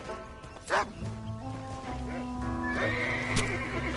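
A horse in Red Dead Redemption gives a loud whinny about a second in, with hoofbeats clopping along underneath and in-game speech audible over the top.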